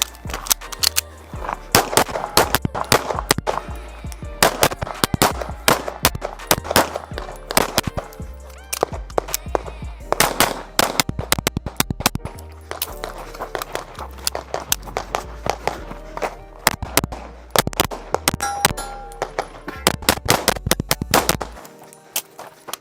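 Rapid handgun shots fired through a seated-start stage at the Wyoming Governors Match, dozens of sharp loud reports in quick strings with short gaps between target arrays, heard outdoors and close.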